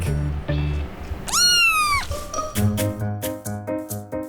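Several cats in a house holding about a thousand cats meow in turn, close by, with overlapping high cries and a long rising yowl, some calls short and others drawn out.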